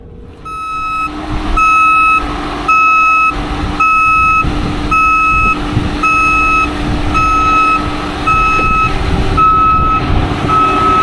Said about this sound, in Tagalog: naririnig ko na yung agas-as ng forklift